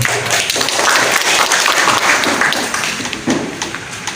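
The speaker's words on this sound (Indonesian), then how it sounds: "Kak Yana sekaligus Kepala Dinas Perhubungan, tepuk tangan untuk beliau." Steady applause from an audience at a talk, a dense wash of clapping that holds at an even level throughout without pause.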